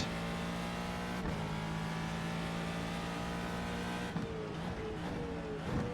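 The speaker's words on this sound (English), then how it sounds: "We'll just let these Hondas go by here" Honda race cars in the iRacing sim at Spa, with a high, steady engine drone from the player's Ford GT2 as the others pass, a shifting pitch and brief tire noise, no talking.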